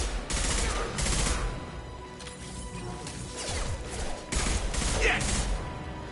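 Gunfire in the Mass Effect 2 shooter game: bursts of rapid, loud shots and crashing impacts in clusters, with brief lulls between volleys and a voice calling out over the fighting.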